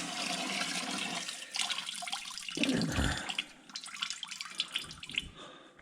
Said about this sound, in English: half gallon of gasoline down there I've been washing. So I'm gonna drain that out.